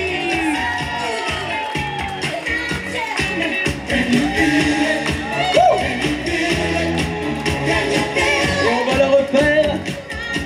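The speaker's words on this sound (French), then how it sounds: "Je vous demande de faire un tremblement de terre d'applaudissements pour Mr." A loud, dense crowd at a Le Floride club night roars, whoops and applauds for the entertainer Mr. Petit Louis, with music underneath, sustained and near throughout.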